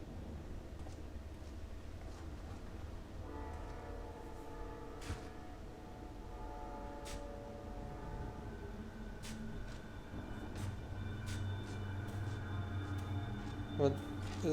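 A train in Final Fantasy XIV rumbles past with a low, continuous rolling drone and a sustained tonal horn-like whine in the middle. People talk over it throughout.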